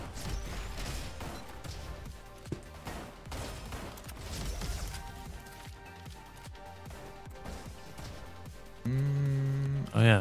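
An LMG fires explosive rounds in the video game Roboquest, a dense, busy barrage of rapid shots and bursting impacts amid game music and effects, fairly quiet overall, ending with a loud sustained tone.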